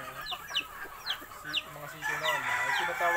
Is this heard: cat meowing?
no